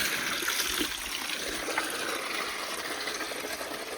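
Water streams steadily over a young Kathiyawadi colt as it is washed in hot weather, a constant close trickle and gush with no voices.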